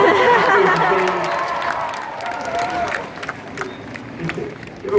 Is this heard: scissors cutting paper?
no